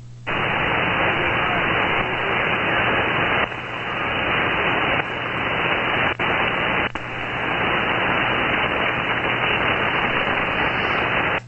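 Steady loud hiss of static fills the 40 meter amateur radio band, broadband and continuous with a low hum beneath, briefly dipping and cutting out a few times, no voices.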